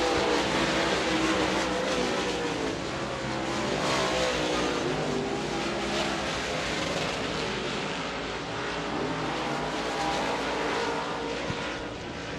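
Race cars at Devils Bowl Speedway in Greenville, Texas, in a Texas Outlaw Modified Series event, roar continuously on the final lap, a dense, steady engine wash from several cars at moderate distance with no talk over it.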